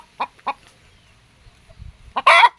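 A broody hen sitting on eggs gives a few short, close clucks, then a louder, harsher squawking burst at the end, with faint rustling in between.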